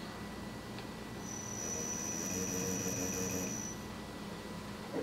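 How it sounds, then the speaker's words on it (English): A Castle ESC-driven motor in a custom SCX10 RC crawler runs in reverse under light throttle, giving a thin high electric whine that rises and fades over a few seconds, with a steady mechanical hum beneath and no voices. "a little bit of throttle in reverse to test the motor out"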